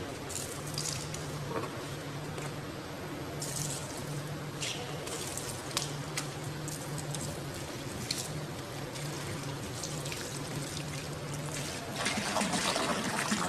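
Water pours steadily from a motor-pumped pipe in a continuous gushing stream, with a low motor hum beneath and the flow getting louder near the end.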